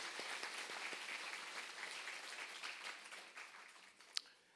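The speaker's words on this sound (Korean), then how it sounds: "우리 큰 박수로 우리 환영하겠습니다" Applause from a church congregation during a Sunday worship service greets a member, a steady wash of many hands clapping at moderate distance that thins toward the end, with one sharp clap near the close.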